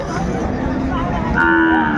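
A cow moos loudly and drawn-out, with a second low call joining near the end, over busy market background noise at a cattle market in Dinajpur, Bangladesh, where Sahiwal bulls and calves are traded.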